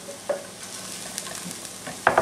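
Onion browning in a pan with large garlic cloves frying alongside, a soft steady sizzle broken by a few close stirring scrapes, the loudest burst near the end.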